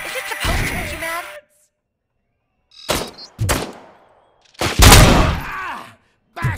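Gunfire in the video game RoboCop: Rogue City comes in loud separate bursts, with an opening volley, a couple of shorter shots in the middle and a heavier burst later, each one followed by silence.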